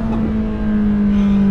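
Ferrari 458 Speciale V8 downshifting on a mountain pass road, a loud, sustained engine note with a steady strong pitch held throughout, close up and alone without talk.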